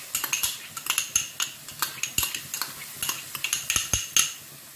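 Leeks, garlic and jalapeño sautéing in a pot, heard mostly as a rapid series of bright metallic clinks and scrapes from a utensil stirring against the pot, with a faint sizzle underneath and no talking.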